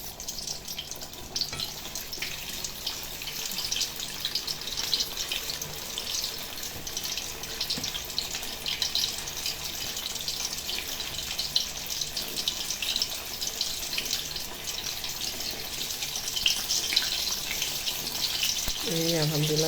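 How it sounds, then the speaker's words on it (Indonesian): Tofu pempek fish cakes frying in hot oil, a continuous dense crackling sizzle at steady moderate loudness throughout, close by with no talking. "Langsung kita goreng ya."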